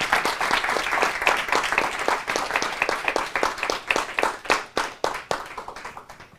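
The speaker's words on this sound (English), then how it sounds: "let's give Chelsea another round of applause" Indoor audience applauding a speaker after a university talk, a dense round of clapping that gradually thins into fewer, louder individual claps from nearby hands as it tapers off.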